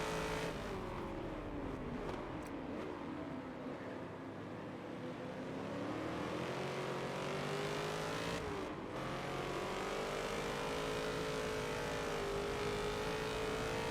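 Race cars lapping Sebring International Raceway in the Forza racing game, engines droning and shifting pitch continuously as they slide through a turn, loud and steady throughout with no talk.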